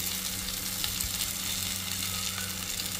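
Chopped garlic sizzles steadily in a hot pan while a bhetki fish dish is prepared, making a close, even, continuous frying hiss with no talking.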